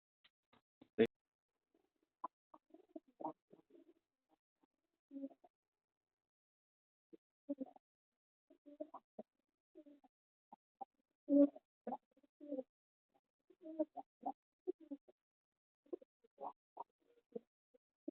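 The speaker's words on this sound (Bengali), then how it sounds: "কালপেটিয়া নটটা কেমন পরিমাণে ডাক করছে আপনারা দেখুন বন্ধুরা" A Kalpetia Madras pigeon cooing close by in quiet surroundings, with repeated short, low throaty coos in irregular bursts and a few soft scratches between them.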